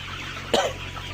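Layer pullet chickens on a farm give one short, sharp cluck or squawk partway through, standing out over a steady background hum of the poultry house.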